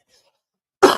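A single sharp cough bursts out near the microphone after a moment of silence, short and close.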